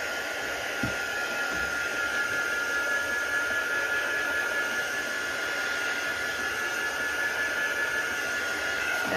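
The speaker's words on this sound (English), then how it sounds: "I'm just going to give it a quick dry with the heat tool" A heat tool blowing hot air to dry a stenciled metallic card background, giving a steady, close whirring hiss with a constant high motor whine that holds evenly for about nine seconds.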